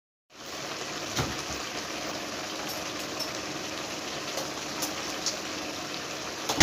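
Water pours steadily into an Odia-style neuli fish curry as it cooks, a continuous close gushing stream lasting several seconds with no talk over it.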